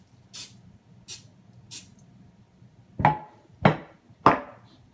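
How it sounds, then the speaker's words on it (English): Three short, soft hissing sprays of cooking spray onto a pan in quick succession, followed by three louder knocking taps. "So you just lightly spray."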